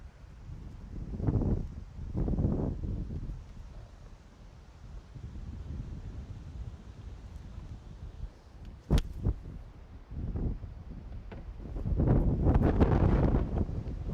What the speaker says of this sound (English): It's obviously a windy day today